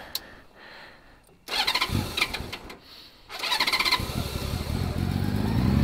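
A Honda Valkyrie motorcycle is started with the choke on after an oil change: the starter cranks in short bursts, then the engine catches and settles into a loud, steady idle.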